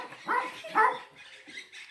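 A dog barks twice in quick succession near a river trail in Santo Cristo, sharp close yaps followed by softer whimpery noises.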